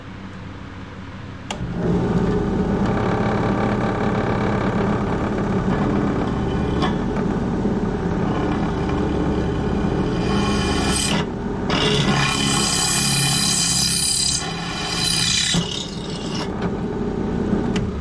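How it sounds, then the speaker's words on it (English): A drill bores a 3/32 pilot hole into tough stainless steel without cutting oil, for a Berkey-style water filter build, giving a loud continuous grinding whine with a brief dip and a higher, harsher stretch near the end. "Now I'm going to drill a pilot hole."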